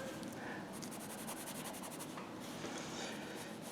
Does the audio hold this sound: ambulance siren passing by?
no